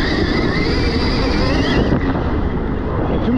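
Stark Varg electric motocross bike braking hard into a turn and then accelerating progressively, a loud steady whine mixed with heavy wind rush close to the rider, with a brief dip as it slows before pulling away.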